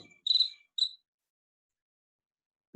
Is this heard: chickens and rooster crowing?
no